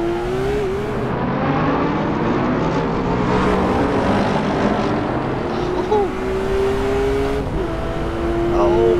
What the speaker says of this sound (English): it sounds like the 2015 Porsche 911 GT3 RS from Kunos